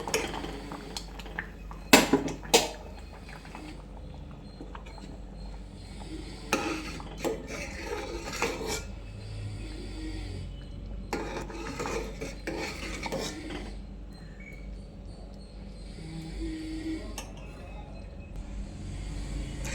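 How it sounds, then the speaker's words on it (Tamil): Black kavuni rice porridge stirred in a boiling pot, with repeated scraping and rubbing strokes of a utensil against the pot in irregular bursts and some metallic knocks. "நல்லா கிண்டிக்கோங்க."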